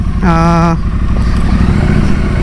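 A 2021 Triumph Street Twin motorcycle starts up close by with a brief whirring starter crank, then the engine settles into a loud, steady idle rumble.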